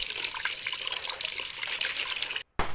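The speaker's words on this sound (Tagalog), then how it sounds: "hugasan na po natin mabuti at pakukulaan ko na" Running water splashes and trickles steadily as lemongrass, turmeric and aratilis leaves are rinsed by hand, close and fairly loud, cutting off abruptly near the end.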